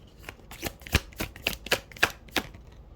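Guidance cards being shuffled for a reading, a series of crisp riffling bursts repeating at a quick, fairly even pace, close and clear with no talking over them.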